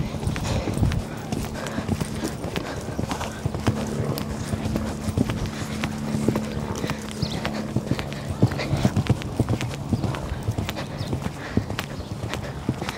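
A horse named as a mare is ridden bareback in an arena, her hooves clip-clopping in a steady, close rhythm through trot and into canter, with a rider's voice now and then over the footfalls.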